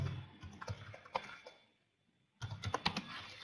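Quick bursts of keystrokes on a computer keyboard as a document number is entered, a run of close clicks, a brief pause of near silence, then another flurry of taps.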